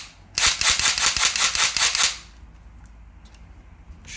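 A shell-ejecting laser tag blaster fires a rapid burst of about a dozen loud, close mechanical cracks over roughly two seconds, then falls quiet apart from a few faint clicks.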